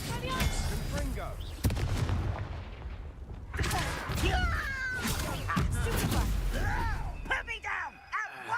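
Confringo fire spells blast during combat in Hogwarts Legacy: repeated booming explosions and impacts over several seconds, loud and close, with grunts and shouts among them.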